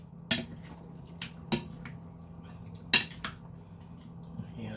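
Kilawin with kalamansi juice being mixed in a bowl for a grilled pork and tuna dish: a few sparse, faint clinks of a utensil against the bowl over a low, steady room hum.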